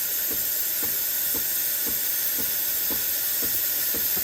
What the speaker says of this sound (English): So the steam is working properly.